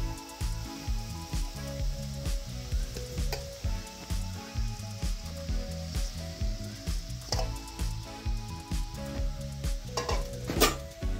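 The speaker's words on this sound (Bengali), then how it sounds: "দিয়ে দেব গ্রেড করে রাখা গাজরগুলি। সমস্ত গাজরকেই আমি দিয়ে দিয়েছি।" Grated carrots for carrot halwa with milk sizzle hard in a hot pan while a spatula stirs and scrapes them in a steady rhythm, with frequent metallic taps against the pan, close and loud.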